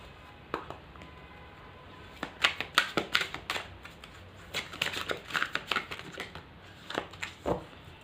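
Tarot cards being shuffled by hand, close and fairly quiet, in irregular bursts of riffling and flicking with short pauses between them.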